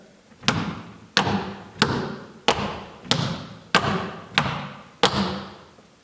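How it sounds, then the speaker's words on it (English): Seven sharp, evenly spaced taps on a hard floor, each a crisp tap-shoe toe pop followed by a short scraping drag, repeating in a steady rhythm with no talking. "It's a little pop of the toe."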